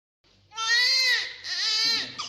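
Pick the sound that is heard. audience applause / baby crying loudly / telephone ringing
baby crying loudly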